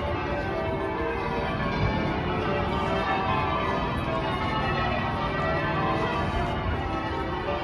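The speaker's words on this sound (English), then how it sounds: "And the cathedral bells are ringing." Cathedral bells ring across Birmingham city centre, a steady wash of overlapping tolls heard at a distance beneath constant street noise and traffic rumble, with no pauses.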